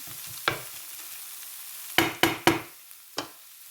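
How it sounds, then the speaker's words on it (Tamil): Onions sautéing in a pan with shrimp and potato, a low sizzle under a handful of sharp spatula scrapes and knocks against the pan, close and otherwise quiet, no speech. "வெங்காயம் எல்லாம் வதங்கி வந்துட்டுது."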